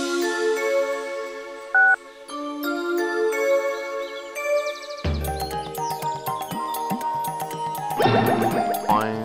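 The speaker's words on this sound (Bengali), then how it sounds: "সাধু বাবার পেটের ভিতর থেকে আমার ফোনের রিংটোন বেজে উঠলো।" A cartoon mobile phone ringtone plays as a bright, tinkling electronic melody, with bouncy boing-like effects and jingly musical notes layered in toward the end.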